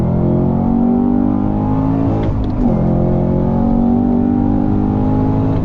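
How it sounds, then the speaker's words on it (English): A Cadillac CT5-V Blackwing's 668 hp supercharged V8 roars loudly from inside the car, climbing steadily, dipping briefly at a quick gear shift, then pulling hard again. "One of the key reasons why I chose the Blackwing is its 668 horsepower supercharged V8"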